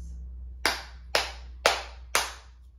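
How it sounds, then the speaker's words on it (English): Four sharp, evenly spaced hand claps from a child in a classroom counting game, close and clear against a quiet room with a low steady hum. "will you clap your hands"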